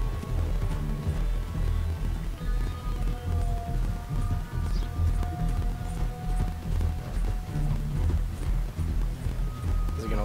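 Galloping horse hooves from the video game Red Dead Online pound out a rapid, steady rhythm with a brief whinny, loud and up close, mixed with game sounds and faint background music.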